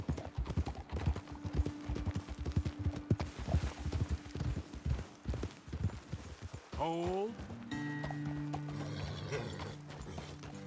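Horses in Red Dead Redemption 2 clip-clopping steadily along under a man's speech, then a horse whinnies and the riders slow to a stop with a soft background score.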